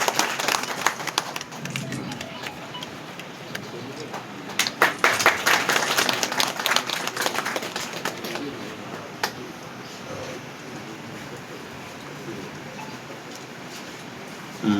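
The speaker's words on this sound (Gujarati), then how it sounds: "તાળીઓના ગગડાટ સાથે વધાવું છું." A village crowd applauds at a temple gathering to welcome a visiting minister, with steady, dense clapping lasting several seconds. It then thins into scattered claps and outdoor background noise, with some voices mixed in.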